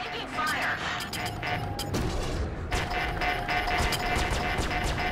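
Incoming gunfire during a Vanduul Swarm wave in the space game Star Citizen: steady crackling impacts and blasts layered under tones and a voice speaking, continuing throughout.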